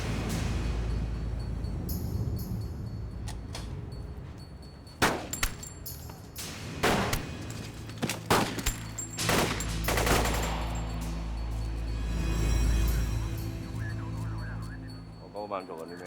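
Gunfire erupts in a Hong Kong police film shootout: rapid bursts and single loud shots crack in a cluster through the middle, over a tense rumbling score with brief voices.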